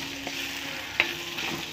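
Prawns sauté in a pan for a simple Kerala-style prawn dish, stirred with a spoon: an even, close sizzle broken by a few scraping taps of the utensil, with no speech.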